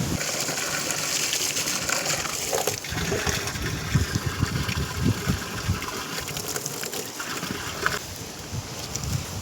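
Water gushes steadily from a hose over the constant drone of a running motor pump, a loud, unbroken rush with occasional splashes.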